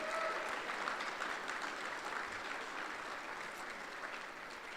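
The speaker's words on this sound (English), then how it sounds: "Can we give another round of applause for everyone here?" At a political party gala, a crowd gives a round of applause for everyone present: continuous, even clapping heard fairly softly, as if from across a large hall, holding steady throughout.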